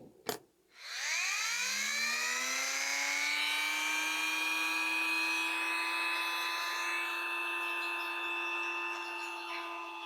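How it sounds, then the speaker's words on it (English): A rotary tool fitted with a cutoff wheel, used on a part from a 1989 Green Machine Frog Band toy, spins up from a brief knock to a steady, close, high-pitched whine that holds without pause. "Maybe I can do this without changing the cutoff wheel."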